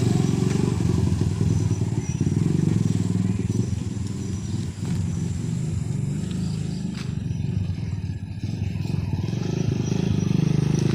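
A motorcycle ridden along a road, its engine droning loud and close with a continuous rumbling roar and some rattling clatter, with faint voices now and then.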